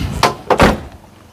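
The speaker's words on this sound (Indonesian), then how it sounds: "Kita buka bagasi sekarang." The rear luggage door of a 1994 Chevrolet Trooper Hi Roof 4WD, fitted with a tire hanger, is worked open: a sharp latch click, then a heavier double thunk close by, with no talking.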